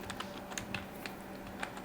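A name is being typed on a computer keyboard, with light irregular key clicks in a quick, uneven rhythm, close and fairly quiet over a faint background hum.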